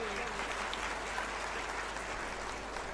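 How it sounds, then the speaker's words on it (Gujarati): Sustained applause from an audience at a Gujarati motivational speech event, steady and fairly even throughout with a broad wash of clapping that continues without a break. "ખૂબ સુંદર જોરદાર તાળીઓના ગડગડાટથી"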